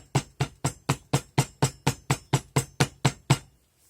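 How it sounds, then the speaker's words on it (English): A ring mandrel taps down packed material in a jewelry casting flask, thirteen sharp evenly spaced knocks in quick succession, close and crisp, then silence. "And I like to take a ring mandrel and tap it down."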